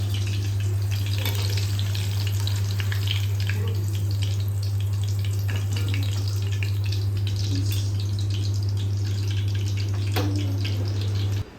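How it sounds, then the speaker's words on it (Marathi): Green chillies frying in hot oil in a home kitchen, a continuous crackling sizzle with scattered pops and a steady low hum beneath, no talking. "तर आता इथे मी मिरच्या तळून घेतलेल्या आहेत काढून घेते"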